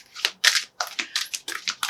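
Tarot cards riffled and shuffled by hand, a series of about eight quick, crisp papery bursts in an irregular rhythm, close and fairly loud with no talking.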